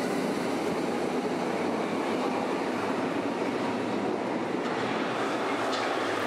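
Berlin U9 underground train running, a steady, dense roar of wheels and motors heard from inside the carriage, loud and unbroken throughout.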